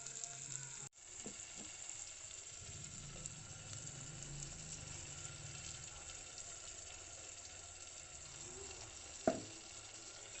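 Tempering spices fry in a pan for tomato rasam, a steady close sizzle that runs throughout, with a sharp clank near the start and a brief knock toward the end.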